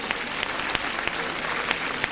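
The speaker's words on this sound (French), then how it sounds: "on les applaudit." Applause from the audience at a school stage performance of Les Misérables, a dense, loud, continuous clatter of many hands clapping together, brief and uninterrupted.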